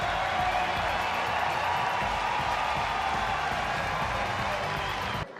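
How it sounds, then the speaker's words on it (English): A large crowd at a college baseball regional game roars and cheers in a dense, continuous wash of noise that stays loud throughout, then cuts off abruptly. "Listen to this crowd."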